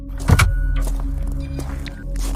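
A parked car sits in a deserted spot at night as friends climb out, with a brief mechanical whir and a door clunk up close, followed by faint shuffling and movement.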